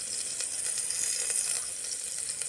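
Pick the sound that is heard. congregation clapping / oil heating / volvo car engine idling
oil heating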